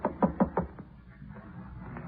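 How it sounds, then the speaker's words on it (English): A door knock from an old 1950s radio drama, four firm raps in quick succession followed by a softer fifth, muffled and lo-fi, with a quiet room tone afterward. "Go ahead and knock."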